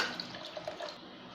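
Water pours into a pot of soaked rice as a Ramadan nombu kanji porridge is being cooked, a soft, steady, close splashing that trails off into quiet after about a second.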